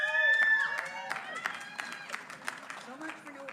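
Applause at a college degree ceremony for graduates, with spread-out clapping from the audience mixed with cheers and voices. It starts loud and thins into scattered claps.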